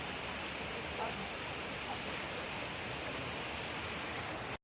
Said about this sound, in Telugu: కొంచెం చిన్న వాటర్ ఫాల్స్ ఉన్నాయి.